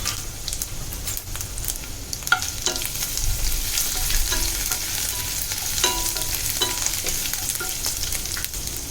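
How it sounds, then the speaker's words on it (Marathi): Chopped garlic and green chilli sauté in a hot pan, giving a steady sizzle broken by frequent clicks and scraping stirs, close and fairly loud with no talking. "आता छान आपण परतून घेऊया."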